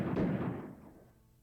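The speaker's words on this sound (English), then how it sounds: "Gunfire?" A single heavy gunshot boom from a visual novel video game, muffled and low, hits at once and then rolls off into a fading rumble over about a second.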